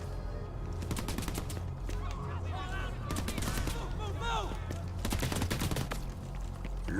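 Bursts of automatic gunfire in the video game Crackdown 3 crackle in rapid strings amid chaotic in-game sounds and squawking effects, fairly loud and repeated over several seconds.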